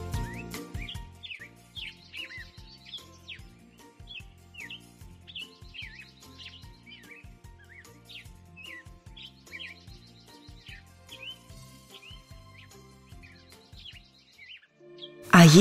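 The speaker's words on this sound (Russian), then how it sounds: "Есть певчие птицы." Songbirds sing in a repeated sequence of bright, quick chirps and trilling phrases, fairly close and clear over a quiet background with soft low music.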